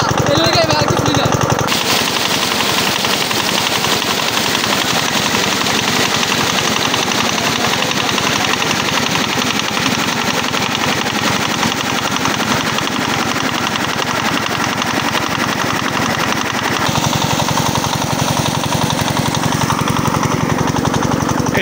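An irrigation pump machine draining pond water for fishing chugs loudly and continuously at close range, a rapid, rattling engine beat that keeps going without a break.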